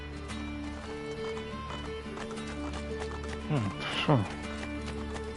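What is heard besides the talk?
horse hooves clip-clopping in the video game Assassin's Creed 2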